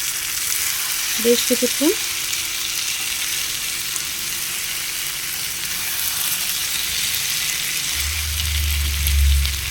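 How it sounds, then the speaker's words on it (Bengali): Eggs stirred gently in a pan of frying masala give a steady, even sizzling hiss throughout; a voice speaks briefly early on and a low rumble rises near the end. "আস্তে নাড়াচাড়া করব যাতে ডিমগুলো না ভেঙে যায়"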